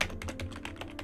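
A computer keyboard typed on at a steady quick pace, close and moderately loud, each keystroke a crisp separate click with no talking.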